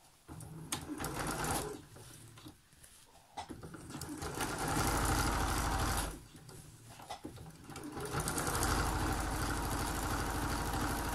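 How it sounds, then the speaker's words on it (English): A sewing machine double stitches a seam on an upcycled grocery shopping bag, running in several loud, rapid bursts separated by brief pauses for repositioning the fabric. "we'll double stitch this"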